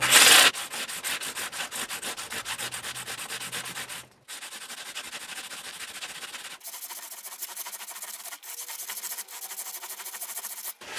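Hand sanding a Jazz bass part with 400 grit sandpaper: steady, close, loud abrasive rubbing strokes that pause briefly now and then, with no talking.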